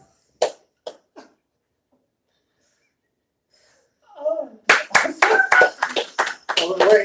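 Sparse, isolated hand claps at first, then after a pause a rapid burst of sharp claps mixed with breathy voice sounds.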